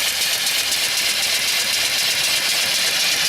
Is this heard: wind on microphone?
no